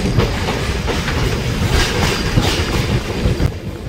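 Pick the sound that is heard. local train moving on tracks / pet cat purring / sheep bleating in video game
local train moving on tracks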